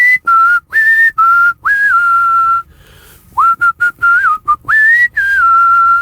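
Close, loud whistling of a melody by a person, sustained tones broken into phrases with short pauses, alone without any talk.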